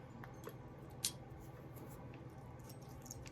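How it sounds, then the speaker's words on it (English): Scissors snip fiber paper for a fused glass angel ornament in a kiln project, a soft quiet trim with one sharper cut standing out against low background hiss. "And I will trim it down so it doesn't go behind the wings."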